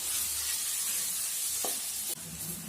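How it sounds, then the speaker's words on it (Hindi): Onions frying in a pan over a medium gas flame until light brown for soya pulav, a steady close hiss and sizzle with a couple of brief stirring knocks and no talk. "लाइट ब्राउन होने तक भून लें इसे भी।"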